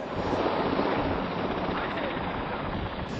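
Helicopter rotor drone and wash, steady and loud throughout, working near stacks at an automotive plant, with wind rumble on the microphone.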